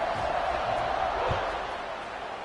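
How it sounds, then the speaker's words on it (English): A football stadium crowd at a Michigan versus Maryland game keeps up a steady, dense roar after a score, a broad wash of noise that continues throughout. "this crowd is buzzing after that last score"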